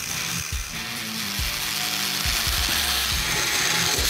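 Angle grinders with 4.5-inch cutoff wheels cut through a Chevrolet Silverado short bed truck frame. A loud, continuous high-pitched grinding whine is broken by repeated dips in pitch as the wheel bites into the steel.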